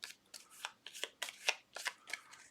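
A small deck of hut cards from the board game Legacy of Yu being shuffled by hand, a quick series of about eight crisp riffling swishes in uneven rhythm, close and quiet with no talking.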